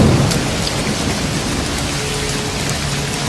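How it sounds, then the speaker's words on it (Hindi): Heavy rain pours down steadily in a dense, loud hiss of drops hitting surfaces, with a low rumble that suggests distant thunder, and no voices. "बारिश तेज हो गई।"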